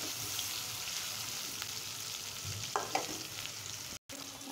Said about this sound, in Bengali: এখন আমি সুন্দর করে ডিমগুলো ফ্রাই করে নেব